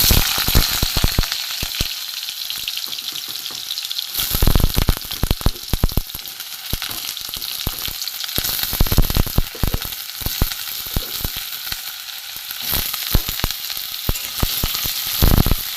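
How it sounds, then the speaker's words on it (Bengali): Potatoes frying in hot mustard oil give a loud, continuous sizzle packed with dense crackles and spits, heard close and without pause. "কড়া সর্ষের তেল দিয়ে দিয়েছি। এখানে আলু আছে, আলুটা আমি প্রথমে ভেজে নেব।"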